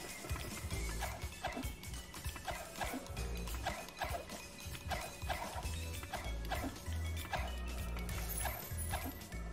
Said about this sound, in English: Well, don't bark.